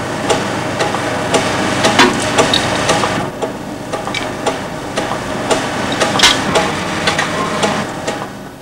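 A surface grinder runs steadily with a magnetic chuck holding the work, giving a constant mechanical hum and hiss with rhythmic light knocks and scraping ticks, close and even in level throughout.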